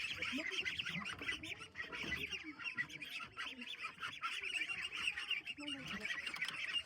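Ducks quack and squawk continuously after bathing in water, several birds calling over one another at moderate distance, with some faint voices in the background.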